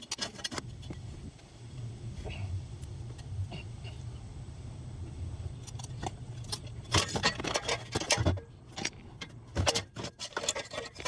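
A slightly bent car downpipe being forced into place from beneath a car on jack stands: faint scraping and rubbing, then a flurry of sharp metallic clanks and knocks in irregular bursts toward the end, close and without talk.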